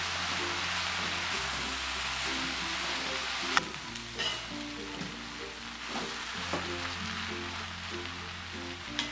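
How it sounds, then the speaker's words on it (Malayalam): Mashed potato samosa filling is stirred in a hot pan, giving a steady soft sizzle with occasional louder scrapes and knocks, under gentle background music and no speech. "ഇനി ഇതൊന്ന് ഇളക്കി യോജിപ്പിക്കാം."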